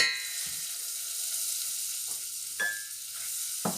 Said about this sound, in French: ce qu'on est en train de faire là, ça s'appelle faire un roux. On fait fondre le beurre.